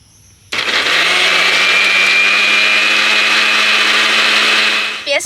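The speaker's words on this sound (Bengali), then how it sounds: "এবার আমি ঢাকনা দিয়ে দেবো দিয়ে মিক্সিতে ঘুরিয়ে একটা পেস্ট করে নেবো" An electric mixer grinder blends onion, garlic and mustard oil into a paste, starting abruptly into a loud, steady high-pitched whir that runs continuously and cuts off near the end.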